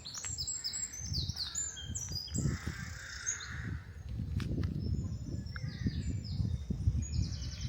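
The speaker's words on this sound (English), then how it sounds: "And a wren." Outdoor wren song with rapid high trills and chirps at moderate distance, repeated in short bursts over low rustling background noise on the Isle of Wight Undercliff.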